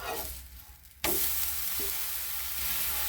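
An instant dosa cooks in a pan, setting off a sudden loud burst of sizzling that carries on as a steady hiss close by.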